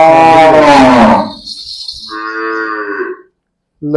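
A water buffalo moos loudly and close by at a livestock sale in Punjab, one long deep call followed by a second shorter, higher moo, then quiet.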